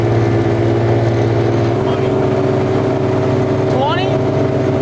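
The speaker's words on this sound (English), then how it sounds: "Dude, we're at like quarter throttle." A tiny boat fitted with twin outboard engines running at quarter throttle, a loud steady mid-pitched engine drone with water rush throughout, close by, with people talking over it.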